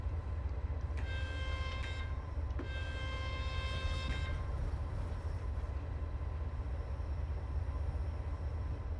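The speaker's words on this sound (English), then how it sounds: "Just need to judge for the end of the train going past it." A train rolling past in Train Sim World 3 on the Stockheim to Bad Vibel route, with a steady loud rumble throughout and two sustained horn-like tonal blasts early on.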